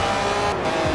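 A Ferrari F40 race-bred engine in Forza Horizon 4 roars loud and steady for a brief moment, with a dense, gritty engine drone throughout.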